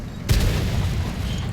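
A single heavy artillery shell from World of Tanks slams into the player's tank with a sharp close boom, then a low rumbling tail that fades slowly.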